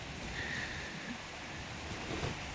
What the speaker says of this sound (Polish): dzisiaj się wichury zerwały